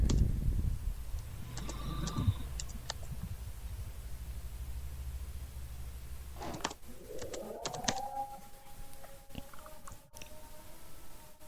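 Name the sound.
typing on a computer keyboard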